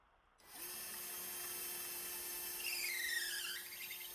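Ozito 18V cordless drill boring into hardwood, starting abruptly and holding a steady high motor whine for several seconds, with a rising squeal as the bit works through the wood.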